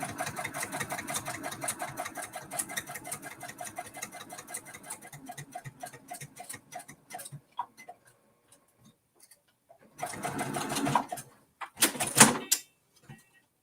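A sewing machine stitches a Kimberbell mini quilt, running steadily with a rapid, even needle rhythm for several seconds. It stops, then whirs again in two short bursts, fairly close and moderately loud.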